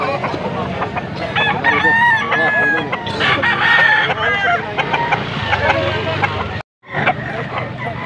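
Roosters crow repeatedly and loudly, several overlapping calls with clucking, amid a busy outdoor crowd talking at a rooster market in Pampanga, Philippines.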